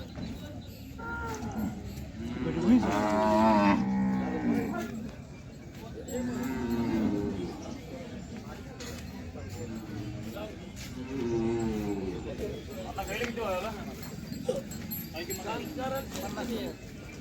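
Cattle moo loudly and repeatedly at a Khillar cattle market in Sangola, the long lowing calls rising over a crowd's chatter and a voice talking close by.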